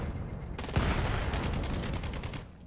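Rapid gunfire in a competitive video game match rattles in fast automatic bursts, close and loud, with a heavier blast early on and dense repeated shots continuing to the end.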